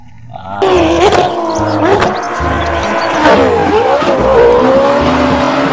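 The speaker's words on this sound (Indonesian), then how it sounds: "Wah, kalau yang ini motor balap." A toy race motorbike gives out a loud electronic engine roar, revving and surging repeatedly with a few abrupt shifts in pitch, close and continuous after a quiet start.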